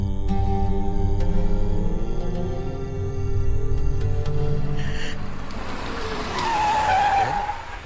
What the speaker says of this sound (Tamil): என்னது கார் சத்தம் கேட்குது?